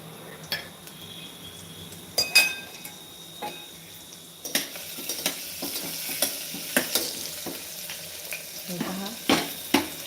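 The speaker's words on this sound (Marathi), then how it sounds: "मम्मीने आता तेलमध्ये टाकलेलं आहे जिरं आणि लसूण" Cumin and garlic frying in hot oil, with a soft background sizzle. A spoon clinks and scrapes against the pan in repeated sharp taps, growing busier after a few seconds, and a voice briefly speaks.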